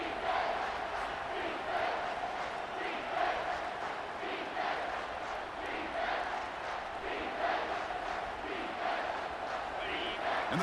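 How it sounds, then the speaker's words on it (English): Stadium crowd noise from EA Sports College Football 25, a sustained roar of massed cheering with rising surges, swelling while the defense plays in the red zone during overtime. "the crowd coming to life here, trying to help this defense down in the red zone"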